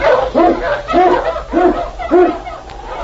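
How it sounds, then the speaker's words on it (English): Eskimo lead sled dog barking in an old radio drama set in the snowy Yukon, four loud bow-wow barks in a steady rhythm over a constant hiss of broadcast noise. "King, the swiftest and strongest of Eskimo lead dogs, blazes the trail through storm and snow"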